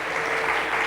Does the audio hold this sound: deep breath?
no